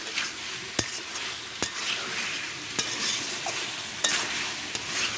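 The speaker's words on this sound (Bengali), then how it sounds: "এভাবে আমি ভালোভাবে কষিয়ে নেব।" Goat meat and spices stirred and sautéed in a pan give a steady close sizzle of frying, broken by a few sharp clacks of a utensil against the pan.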